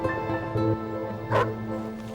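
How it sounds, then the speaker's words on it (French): A dog barks in short, loud bursts close by, a few yips and whimpery barks spaced across the moment, with a faint tonal hum beneath and no speech over it. "Il n'arrête pas d'aboyer depuis hier."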